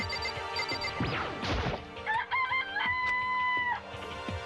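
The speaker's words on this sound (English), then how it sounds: "It's a chicken." A chicken in the Danganronpa video game clucks and crows in short synthetic squawks, mixed with crashing and whacking game effects and a bright electronic tone.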